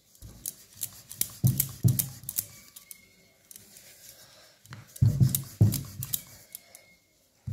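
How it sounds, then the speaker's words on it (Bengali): Dough rolled out with a rolling pin in a village kitchen for a Bengali sweet, giving repeated knocking and rolling thumps in two bursts with quieter scraping between. "এবার একটা আমি ডো নিয়ে নিয়েছি। এবার এটাকে আমি বেলে নেব।"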